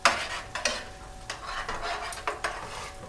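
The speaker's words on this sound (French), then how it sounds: "Je les retourne une fois ou deux." Shrimp sizzle in their sauce in a pan while a utensil turns them, giving soft scraping clicks and taps over a steady frying hiss, close up.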